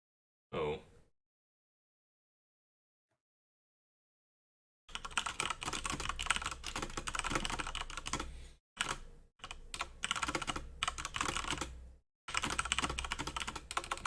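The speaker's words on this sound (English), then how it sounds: "I was typing something." Fast clattering keystrokes on a computer keyboard come close and loud in quick bursts with short pauses, after a single brief click and several seconds of silence.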